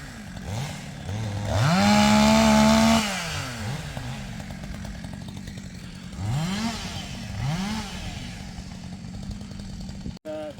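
A Husqvarna 254 chainsaw revs up and holds a high, snappy whine, then drops back to idle and revs again in short bursts, loud and close.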